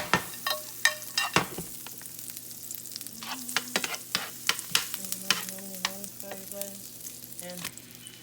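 Butter melting and sizzling in a pan while cooking tacos, a soft crackling fry with scattered sharp pops and utensil taps against the pan, close and fairly quiet.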